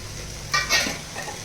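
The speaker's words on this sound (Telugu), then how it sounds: "పుదీనా ఆకు, కొత్తిమీర వేసుకొని వేపుకున్నాము" Mint leaves and coriander sizzle in a hot pan for soya chunk biryani, a steady frying hiss broken by two brief, louder stirring scrapes near the middle.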